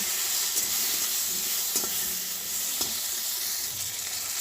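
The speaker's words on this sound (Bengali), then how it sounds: "কড়ার মধ্যে তেল দিয়েছি অল্প একটু হলুদ দেব দেওয়ার পরে ফুলকপিগুলো আগে দিয়ে ভেজে নেব" Cauliflower pieces fry in oil with a little turmeric in a wok, making a steady, fairly loud hissing sizzle with a few light clicks from stirring scattered through it.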